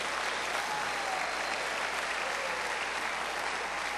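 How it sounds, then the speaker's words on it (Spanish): A church congregation claps together in sustained applause, a dense even wash of many hands that stays steady for several seconds and fills the room, with no clear speech on top. "Denle palmas al Señor."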